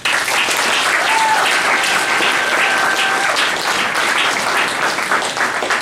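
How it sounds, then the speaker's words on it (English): An audience at a Masonic conference gives a round of applause, a loud, dense, continuous clapping from many hands that fills the room and holds steady for several seconds. "So give him a round of applause, please."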